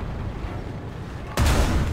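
A tank cannon fires in War Thunder during an M3 Stuart battle: a single sudden, heavy blast breaks over a low rumbling engine drone and stays loud and booming to the end, with no voice.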